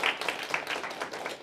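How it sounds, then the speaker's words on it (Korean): An audience claps after a lecture, a short, fairly quiet patter of scattered hand claps in a room. "박수 한번 칩시다."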